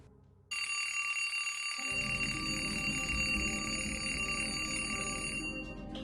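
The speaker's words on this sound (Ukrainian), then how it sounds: "А тим часом пролунав дзвінок." A telephone bell starts ringing abruptly and keeps up a loud, steady, rattling ring for several seconds, with a low hum joining partway through and no voices.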